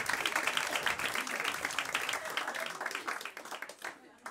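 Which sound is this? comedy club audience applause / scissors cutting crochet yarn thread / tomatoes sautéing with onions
comedy club audience applause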